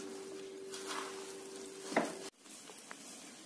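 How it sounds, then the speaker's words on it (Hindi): Chana dal halwa mixed with grated coconut being stirred and roasted in a pan, a soft sizzle with a spoon scraping and one sharp clink near the end. "अब इसे आपस में मिक्स करके 10 मिनट और भुनेंगे।"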